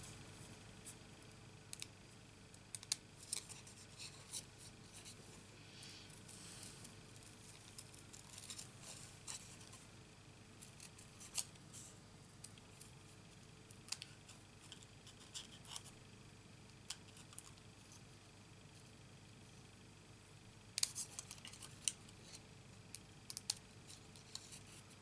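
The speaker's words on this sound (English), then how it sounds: "cutting these flowers out" Scissors snip out paper flowers for a handmade card, a long run of faint, irregular small cuts and rustles close by, with a brief cluster of quicker snips near the end.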